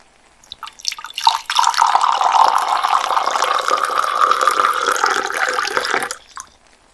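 Water pours steadily into a canning pot holding salsa jars, a close, continuous splashing gurgle lasting about five seconds before cutting off.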